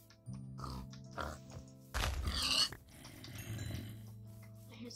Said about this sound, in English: I hear zombies.